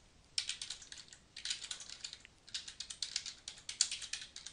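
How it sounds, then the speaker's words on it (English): Typing on a computer keyboard, with quick, irregular bursts of light key clicks close to the listener, broken by brief pauses and no voices. "now what I can do is type in a second paragraph"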